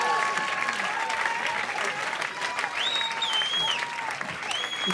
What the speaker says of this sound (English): They couldn't hear you over the crowd, Stacey.